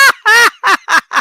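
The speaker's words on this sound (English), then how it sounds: "A mother goose and her goslings." A mother goose with her goslings honks loudly and close by, five harsh nasal calls in quick succession separated by short gaps, with no talking.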